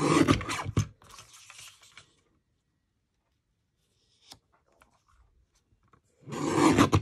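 The edges of a card are trimmed off, making a close rasping scrape at the start, near silence in the middle with a faint tap, then another longer scraping pass at the end.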